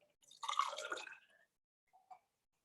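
A drink poured into a glass, a short close splashing trickle of liquid lasting about a second, followed by quiet and a couple of faint drips or clinks.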